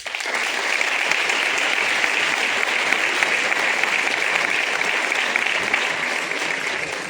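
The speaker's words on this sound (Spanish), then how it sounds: "les brindemos que les llegue allí este fuerte aplauso" Sustained applause from a large crowd at the opening of an agri-food fair in Jaraíz de la Vera, Spain, steady and dense clapping throughout with no pauses.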